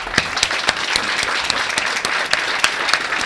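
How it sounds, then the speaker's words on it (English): An audience gives a warm round of applause: dense, continuous clapping from many hands, with a few sharper individual claps standing out, sustained evenly throughout. "I think they deserve a round of applause."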